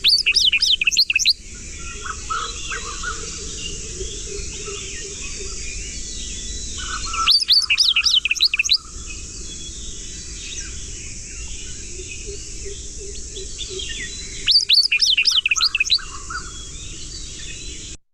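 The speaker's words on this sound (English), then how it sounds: "That was the call of the white-browed wagtail." A white-browed wagtail gives three bursts of rapid, high chirping calls, each lasting about a second and spaced roughly seven seconds apart, clear and fairly close over a steady low background hum.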